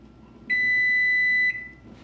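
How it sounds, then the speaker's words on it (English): A single sustained electronic kitchen timer beep, high and piercing, lasts about a second over a quiet background, then stops. "That's my timer telling me the 8 minutes are over"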